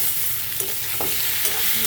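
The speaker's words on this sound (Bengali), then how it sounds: "দিয়ে ভালো করে ভেজে নেব।" Chopped tomatoes fry in a hot pan with a dense, steady sizzle close by and faint stirring taps over it, with no voices.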